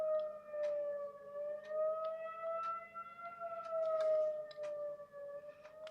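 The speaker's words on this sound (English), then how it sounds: "don't be alarmed by the siren in the background." A town siren sounds for a noon whistle and fire alarm test, its steady wailing tone slowly rising and falling as it carries continuously through the whole stretch, moderately loud.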